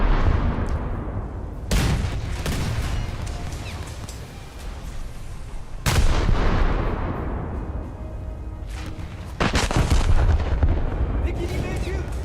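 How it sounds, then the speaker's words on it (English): Warship gun turrets firing in a naval video game, with 152 mm guns mentioned: two heavy booming salvos about four seconds apart, each rolling away, over a constant loud engine-and-sea rumble. "My rear turret's fired without being in complete alignment."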